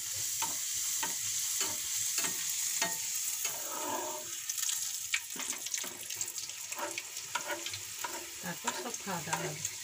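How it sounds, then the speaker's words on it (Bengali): Green pea kachori fry in hot oil in a kadai, giving a constant bubbling sizzle with repeated scrapes and stirring clatters over it and occasional watery splashes, and no one speaks. "কচুরিগুলো ভেজে নিই"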